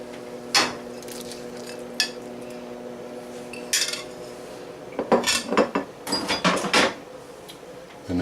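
Fish pieces of yellowtail snapper go into a pot of miso soup, giving a few scattered metallic clinks and clatters of utensil against pot, with a busier cluster of clanks and scrapes near the end, no talk.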